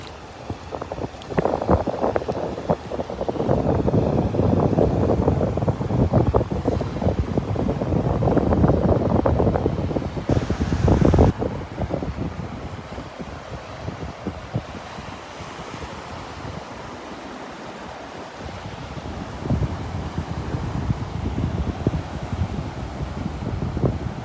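Wind gusts and surf roll in steadily on a Delnor-Wiggins beach on a breezy morning, a loud, constant rush of breaking waves with buffeting wind noise on the microphone and no voices.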